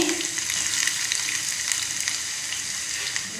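Onion frying in coconut oil as tempering for an Udupi-style fish curry gives a steady, dense sizzle with crackling pops that carries on evenly without pause, close and fairly loud with no talking.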